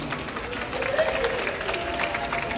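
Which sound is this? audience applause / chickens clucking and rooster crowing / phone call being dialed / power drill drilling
audience applause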